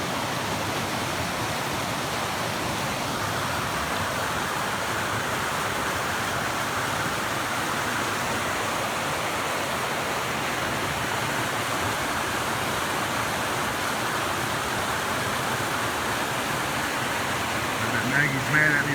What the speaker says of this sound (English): It's a little pretty little creek in Cosby, Tennessee.